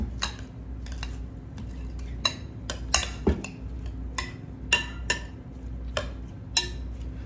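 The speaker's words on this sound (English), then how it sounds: "And I'm mixing this up again." A utensil stirs seasoning into saltfish and shrimp fritter batter in a bowl, giving sharp clinks and taps at an uneven rhythm over a low background hum.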